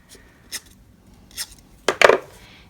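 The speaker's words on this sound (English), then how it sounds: "I'm gonna arch it a little bit with my scissors." Scissors make a few sharp, separate snips while cutting a strap piece for a suitcase project, ending in a louder cluster of cuts close to the microphone.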